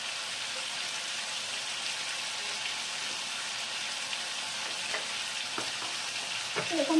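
Spices being sautéed in a pan while cooking at home, a soft steady sizzle and frying hiss close by, with a few stirring clinks toward the end.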